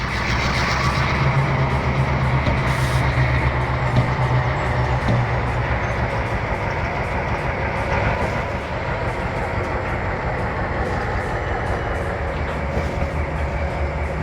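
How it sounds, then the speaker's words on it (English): An EMD GP38-2 diesel locomotive starts to roll in Trainz Simulator, its steady low engine drone and rail rumble holding loud and constant throughout, with a faint high hiss above. "Use the right trigger to increase the throttle to position 1 to start the train rolling."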